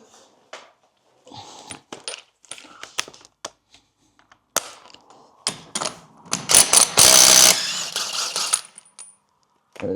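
A ratchet with a 30 mm socket works loose the CV joint nut on a BMW iX front drive axle, giving irregular metallic clicks and clanks that build into a dense burst of ratcheting and tool rattle near the end.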